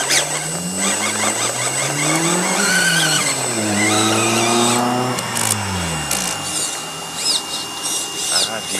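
Small electric motor of an RC crawler car driven outdoors on Lycabettus hill, its whine rising and falling in pitch as it runs, with people talking over it.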